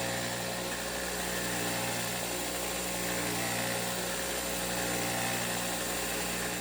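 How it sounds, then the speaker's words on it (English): A bench sander runs with a steady, dense whir while smoothing glue lines on scrap-wood coasters, close and continuous with no talking. "it was over to the bench sander to clean up the glue lines and get everything nice and smooth"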